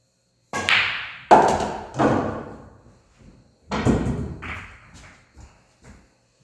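Pool cue ball struck into an object ball in a stop shot during position-play practice: several sharp, close knocks in a clear series, each tailing off, with no talk.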